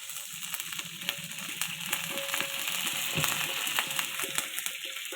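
Water added to a hot pan under a tiffin-box lid gives a continuous sizzling hiss with scattered crackles, moderately loud and close, steady throughout with no talking.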